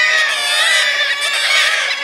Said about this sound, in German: Noch einmal ein Soundcheck bei den jungen Möwen.